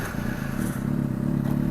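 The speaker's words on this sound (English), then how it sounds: "I'm gonna go ahead and give you guys a couple of revs too" A warmed-up Kawasaki ZX6R fitted with a JTI undertail exhaust idles and revs up close by, a loud low rumble with rapid exhaust pulses that builds in the second half.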